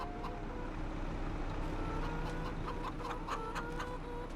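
Chickens clucking in the Farming Simulator 25 farm game, a scatter of short clucks over a constant low engine-like hum, with no talk.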